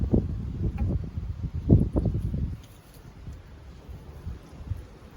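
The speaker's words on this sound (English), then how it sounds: "I'm sure you can hear the wind. It's slightly windy." Low, gusty wind buffets the microphone in rumbling bursts, heavier at first and then easing to a softer rustle.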